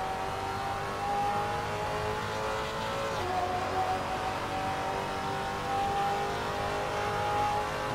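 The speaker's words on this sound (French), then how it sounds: "mais pied de plomb sur la pédale d'accélérateur" Maserati MC GT4 race car engine held at full throttle in Assetto Corsa, a loud steady high-pitched roar from close by that climbs slightly through a gear change, with no talk.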